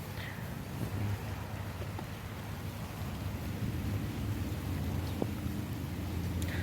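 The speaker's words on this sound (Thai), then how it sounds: "ยิ่งฝนตกอย่างนี้ด้วยนะครับ" Steady rain hisses continuously with a low, rumbling background and no speech.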